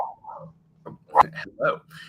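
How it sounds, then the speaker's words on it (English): An excited dog in the background lets out short yips, barks and whimpers in a quick, irregular burst, with a voice mixed in among the sounds. "Sorry, I got my dog in the background. She's excited"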